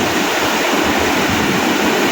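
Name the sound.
big ocean waves at low tide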